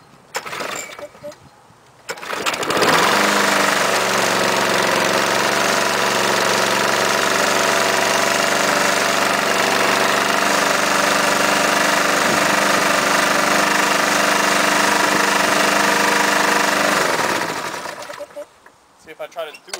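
A lawnmower engine is cranked by hand and catches, then runs loud and steady at a rough, rattling idle for about fifteen seconds before it cuts out.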